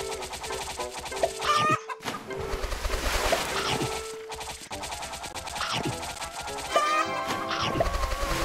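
Chickens cluck in an egg farm video game, the game audio busy with overlapping squawks and crashing effects that run almost without a break.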